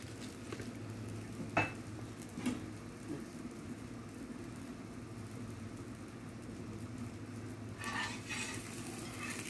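Paratha frying in oil on a pan, a low steady sizzle throughout with a few brief clinks and scrapes near the start and end, fairly faint and without talk.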